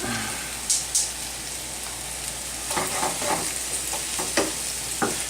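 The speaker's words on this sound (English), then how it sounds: "these mushrooms take about a minute and a half to cook" Mushrooms cook in a hot pan with the heat turned up, giving a steady sizzling hiss broken by a few sharp clicks and scrapes of stirring.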